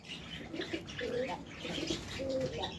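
Soft, low pigeon coos repeat in a gentle rolling rhythm, several birds close by in an aviary, with faint chirps and rustling in the background.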